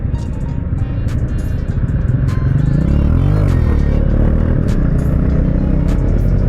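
A KTM Duke 390 motorcycle engine roars steadily at night during a wheelie, loud and close, with the throttle swelling and rising midway through.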